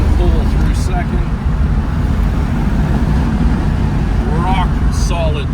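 A 1965 Chevrolet Corvette engine pulls cleanly through second gear on rough Alberta roads, a loud steady roar with road rumble throughout and someone talking over it.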